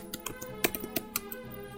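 Quick, irregular keystrokes on a computer keyboard, a run of separate light clicks with a few sharper taps, close and clear with no voice.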